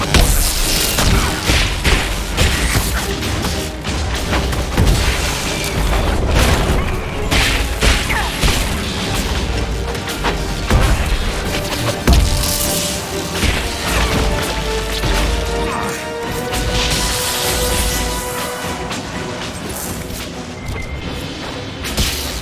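A trebuchet assault in Dragon Age Inquisition fills the scene with loud, continuous booms, crashes and heavy impacts over dense battle din, sustained throughout without a break.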